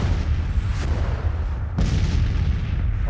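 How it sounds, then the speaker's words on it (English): Artillery pounding troops in Grand Tactician's 1863 Civil War battle: two heavy cannon booms roughly a second apart, each decaying into low rumble, over a continuous deep battlefield din; no talk. "these guys over here are just getting pounded by my artillery"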